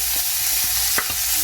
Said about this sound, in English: I'm just going to be frying with a teaspoon